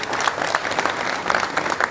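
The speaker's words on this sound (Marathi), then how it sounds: "त्यांचं खरोखर आपण टाळ्या वाजून स्वागत करूया" Audience applause at a public address, a dense burst of many hands clapping close and loud throughout, with no talk over it.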